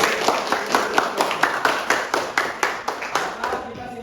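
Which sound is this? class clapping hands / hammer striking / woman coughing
class clapping hands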